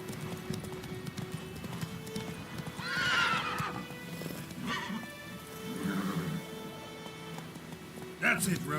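Geralt's horse Roach in The Witcher 3 gallops with steady clip-clop hoofbeats and lets out a loud whinny, with someone talking over much of it.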